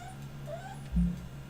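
A pet dog whimpers softly against a low steady hum, with a brief louder thump or rustle near the middle.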